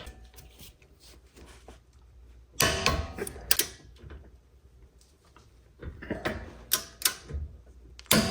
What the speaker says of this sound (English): I like to use my handy dandy torque wrench here